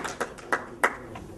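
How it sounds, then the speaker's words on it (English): At a university lecture, a handful of faint, widely spaced handclaps sound in a quiet room: about four separate claps, scattered rather than a full round of applause. "Let's have a round of applause for the non-existent"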